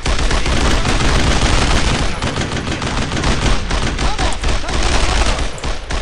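Heavy, continuous gunfire in the World War II shooter Brothers in Arms: Road to Hill 30, loud and close, with rifle and machine-gun bursts piling into a dense, relentless barrage.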